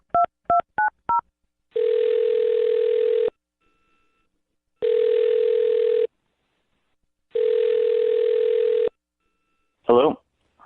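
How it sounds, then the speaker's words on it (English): A telephone dials a number with four quick keypad tones, followed by three long, steady ringback tones separated by silence, then a brief burst of a voice answering at the end. "I'm going to dial this phone number right now"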